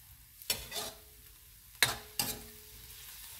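Chicken tinola with vegetables is stirred in a pot, giving a few sharp scraping clinks spaced irregularly over a soft simmering background, fairly quiet and close.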